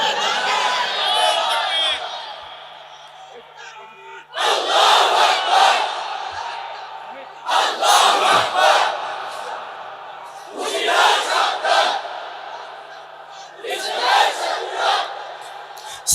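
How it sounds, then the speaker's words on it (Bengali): At a religious rally, a large crowd roars out the takbir chant in four loud collective bursts, each answering a single voice that leads the call, with shorter pauses in between. "জোরে একজন তাকবীর দেন।"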